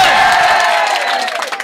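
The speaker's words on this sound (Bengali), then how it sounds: "ভাইয়ের জন্য একটা হাততালি হবে" At a busy Eid cattle market in Chattogram, a crowd cheers and claps together in a loud, sustained burst of whoops and applause that tapers off slightly toward the end.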